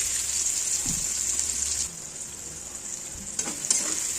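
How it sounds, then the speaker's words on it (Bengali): Oil sizzles steadily with a bright hiss as sliced onions fry into crisp birista for chicken biryani, a few stirring scrapes and clinks breaking through, close and continuous. "এবার ওই তেলের মধ্যে বেরেস্তাটা বানিয়ে নেবো"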